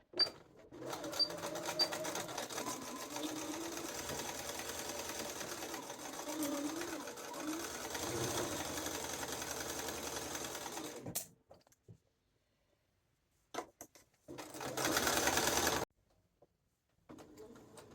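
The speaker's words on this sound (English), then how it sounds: "you're going to sew till you get to the side slit here" A sewing machine stitches the inseam pocket seam of a duster at a 5/8-inch allowance, running steadily and close for about eleven seconds, then stopping, followed by a few short bursts of stitching and a brief final run.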